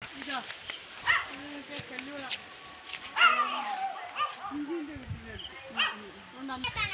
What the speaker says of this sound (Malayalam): അവിടെ ഒരു പട്ടീനെ കുരയ്ക്കുന്നുണ്ട് കേട്ടോ